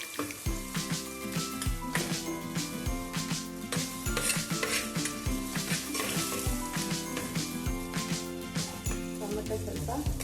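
Spices sizzle in hot oil for tempering a Kasaragod-style mackerel pulimunchi, with a steady crackle and frequent metallic clinks and scrapes as the pan is stirred.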